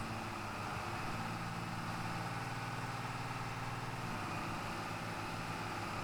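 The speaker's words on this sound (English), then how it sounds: "This tractor sounds great." A tractor engine in Farming Simulator 22 idles steadily and low, continuous with a faint rumble and no pauses or voices.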